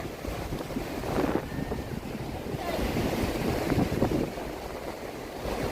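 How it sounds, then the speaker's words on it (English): Strong waves crash and surge along the Lake Michigan shore in Chicago, a continuous roar of surf mixed with heavy wind noise on the microphone, rising and falling in waves. "the waves are really strong today"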